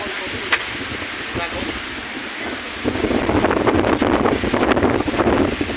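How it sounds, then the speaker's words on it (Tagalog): Strong wind gusting across Boracay's White Beach in rain, buffeting the microphone in rough bursts that grow louder midway, with surf washing in the background and a voice speaking. "Lakas ng hangin, no?"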